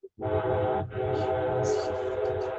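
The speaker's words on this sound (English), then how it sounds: "Hear that? Trains in the background." A train horn sounding at a distance, two sustained, chord-like blasts separated by a short break, with a faint rumble of rail traffic beneath.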